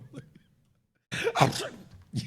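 A single sharp, forceful sneeze bursts out after a near-silent pause, with a short vocal sound at the end.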